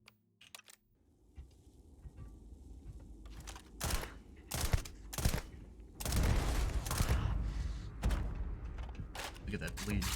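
Suppressed gunfire in the Starfield video game, rapid single shots in quick irregular bursts, loud and sharp, mixed with keyboard clicks and a player's voice talking over it.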